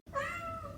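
A single short cat meow from a flu shot campaign ad, clear, close and fairly quiet, with a slightly falling tone.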